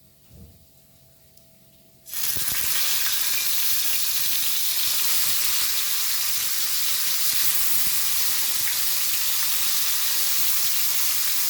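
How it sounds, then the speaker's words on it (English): Hilsa fish curry pieces dropped into hot mustard oil in a pan, with a quiet start that bursts into a loud, dense, continuous frying sizzle lasting to the end. "So I have taken around 2 tablespoons of mustard oil to fry my curry pieces"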